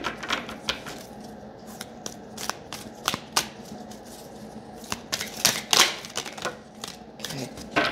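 Heart Thoughts oracle cards are shuffled by hand, producing a steady run of quick, crisp riffling flicks and slaps that sound close and moderately loud.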